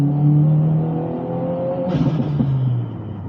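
A 2022 Subaru WRX with a Burger Motorsports intake, its engine revving and then lifting off so the induction whooshes and hisses, heard up close for a few seconds with the engine tone falling away.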